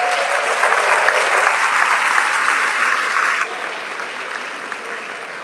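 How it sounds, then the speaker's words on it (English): An audience at a school sports awards event gives sustained applause, thick even clapping that drops in volume partway through and carries on more softly. "let's give these guys a round of applause."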